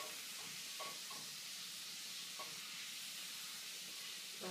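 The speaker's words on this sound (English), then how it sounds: "now I'm adding a very generous heap of 1 teaspoon of garlic" Minced garlic sizzles and fries in a pan of chicken piccata sauce, a faint steady hiss with a few soft stirring clinks, no talk.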